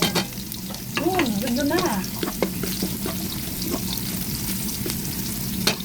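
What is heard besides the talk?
garlic frying and being stirred in a pan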